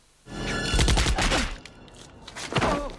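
A burst of gunfire rings out as the Seventh Doctor from Doctor Who is shot outside the TARDIS, several quick overlapping shots with thuds, then a fainter flurry shortly after.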